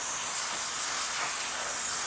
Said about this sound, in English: We're gonna give it a little spray out with some brake cleaner